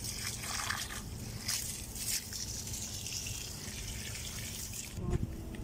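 Water trickles and gushes steadily through a plant watering container outdoors in scorching heat, a continuous wet hiss with a brief louder splash near the end.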